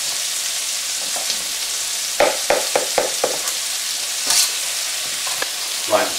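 Mushrooms and rice fry in a pan for Thai cooking, giving a steady sizzle with a rapid series of scraping, clattering stirs and a few later knocks.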